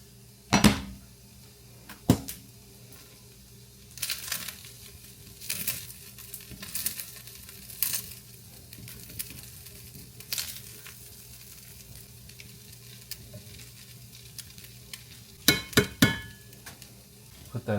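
Teriyaki chicken fried rice sizzles steadily in a pan while a utensil stirs it, with scattered scrapes and clanks of metal against the pan over the soft frying hiss.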